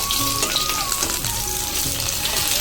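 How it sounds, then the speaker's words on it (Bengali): Small fish frying crisp in hot oil in a home kitchen, a continuous bright sizzle with crackle, steady and close, no voices. "আমার মাছটা কড়কড়ে করে ভাজা হয়ে গেছে"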